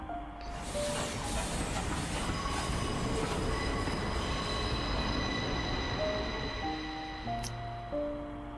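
Train moving in the video game The Charnel House Trilogy, a continuous rolling rumble with high metallic wheel squeals and ringing tones layered over it, fairly loud and steady with no talk.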